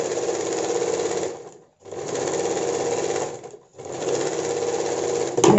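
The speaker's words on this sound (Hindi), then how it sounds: "इसका हम खोपट्टी के ऊपर से एक सिलाई करना है" A sewing machine stitches a sleeveless bra-cut blouse, size 40, running in three steady, loud whirring bursts broken by two short pauses.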